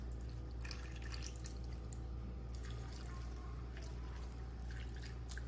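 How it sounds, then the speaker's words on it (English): Chicken broth is poured into the corners of a cooking pan as a faint, steady liquid trickle with soft dripping, heard quietly and without speech. "We're gonna pour the chicken broth into the pan."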